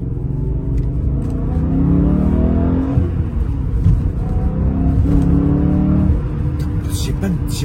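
New car accelerating hard, engine note climbing in rising sweeps with gear changes, loud and close from inside the cabin, with someone talking over it.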